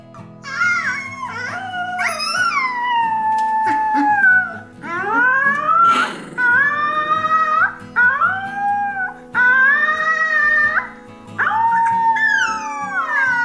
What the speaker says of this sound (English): This Alaskan Malamute puppy indulges in a bout of heartwarming howling